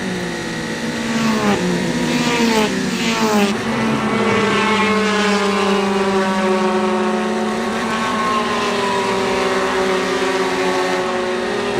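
Race cars scream past on a road-racing circuit during a sprint race, one loud engine note sweeping and shifting through gears near the apex of a corner, with other cars droning underneath throughout.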